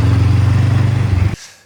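A Honda CBX 500 motorcycle rides with an unbalanced front wheel, its engine droning loud and steady with a faint pulsing wobble for over a second before cutting off abruptly to near silence.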